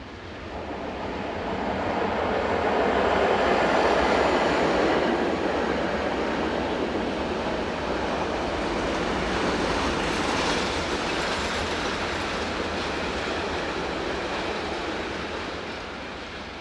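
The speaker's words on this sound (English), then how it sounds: "Train number 50078, the 2040 from Herkingen to Delance, heads west behind" A Swiss passenger train behind locomotive 11237 passes heading west, a broad rushing roar that swells, holds and slowly eases over several seconds with rhythmic wheel clatter and no voices.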